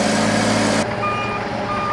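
A truck hauling road salt for Tennessee winter roads, its reversing alarm beeping steadily and loudly over a broad engine rumble that drops abruptly partway through, leaving the beeps and a lower idle.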